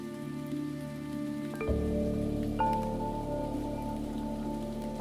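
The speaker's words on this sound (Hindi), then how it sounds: "बारिश का पानी कुदरत का वरदान।" Rain falls steadily on a surface, a continuous patter heard alongside soft sustained tonal background sounds, with no one talking.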